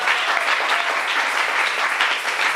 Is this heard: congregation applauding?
yes